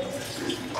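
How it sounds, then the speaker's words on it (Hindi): Water poured into a pot of Tamil Nadu style rasam, a short, steady, close splashing stream. "तो मैं यहाँ पानी डाल रही हूँ"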